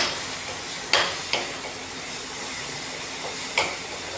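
Masala powder being stirred into taro root curry in a pan, a steady sizzling hiss with a few distinct scraping strokes of the spoon, close and alone.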